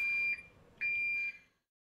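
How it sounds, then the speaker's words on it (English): A sushi nigiri rice ball robot, the ASM410, sounds its buzzer to call for a rice refill: two short, clear electronic beeps close by in a quiet room. "Add rice to the hopper when the buzzer beeps and the operation is temporarily stopped."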